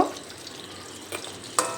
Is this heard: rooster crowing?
no